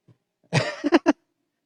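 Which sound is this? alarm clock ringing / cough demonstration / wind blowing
cough demonstration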